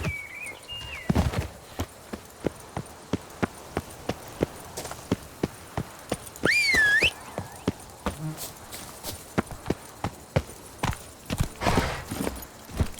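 The horse Roach in The Witcher 3: Wild Hunt, steady close hoofbeats clopping in an even rhythm, with a brief whinny partway through, light ambient game sounds and a short spoken voice.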